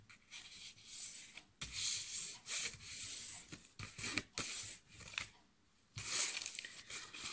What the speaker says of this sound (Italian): Prendo il quadrato e lo vado a piegare in modo diagonale, in questo modo.